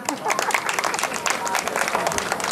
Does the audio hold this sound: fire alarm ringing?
no